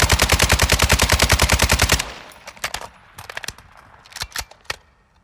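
Automatic weapon fired at a wall in Modern Warfare II: a loud, steady rapid-fire burst of about twenty evenly spaced shots, then it stops and scattered sharp clicks and thuds follow more faintly.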